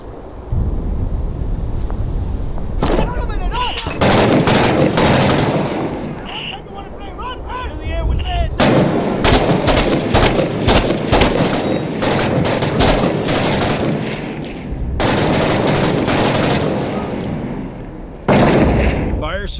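Sustained bursts of automatic gunfire from a combat video game, loud and dense, broken into long volleys with short gaps between them, alongside muffled explosions and wind-like roar.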